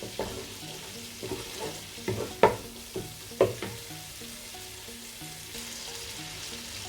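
Masala for fish curry frying in a pan, a steady soft sizzle broken by several sharp scraping clicks from stirring, close and moderately quiet.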